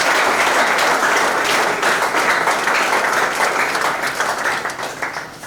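Workshop participants applaud themselves as the session is declared closed, a loud, dense burst of clapping that holds steady and then tapers off toward the end.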